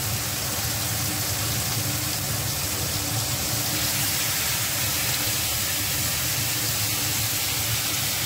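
Chicken leg pieces frying two at a time on a small tawa, a steady, close, continuous sizzle and hiss that stays even throughout with no talking.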